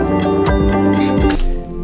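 Two music clips blend through a constant power crossfade in Premiere Pro, one full loud passage flowing into the next with a brief dip near the end, no voices.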